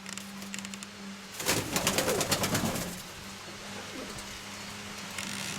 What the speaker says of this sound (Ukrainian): Дивися, які голуби.